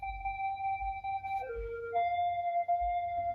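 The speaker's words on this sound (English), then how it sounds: "Another kind of droney, weird, glitchy sound thing." A droney, weird, glitchy synth tone holds steady and then bends down and back up in pitch, with a faint pulsing low throb underneath; quiet and without voices.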